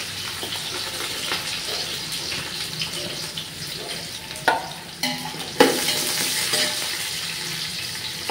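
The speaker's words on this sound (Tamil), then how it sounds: "இப்போ வெங்காயம் போட்டுக்கிறோம்" Onions frying in oil in a pan for biryani, a steady close sizzle with stirring scrapes and a few louder clanks of the spoon against the pan.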